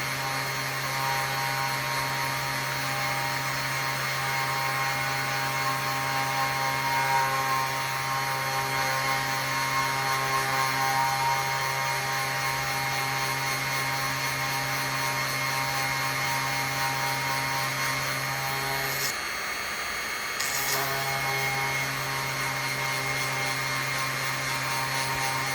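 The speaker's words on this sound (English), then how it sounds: "Just drilling a hole." A small rotary drill bores holes through labradorite cabochons, giving a steady, close whine that runs continuously, broken by one brief pause near the end.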